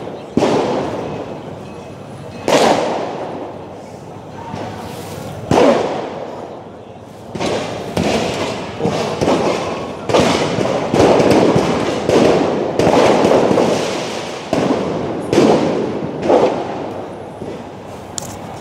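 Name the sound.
firecrackers exploding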